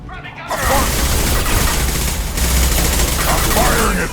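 Dense, rapid gunfire fills a Mass Effect 2 Legendary Edition firefight, a loud, steady barrage of shots and booms aimed at the player that runs almost without pause for several seconds.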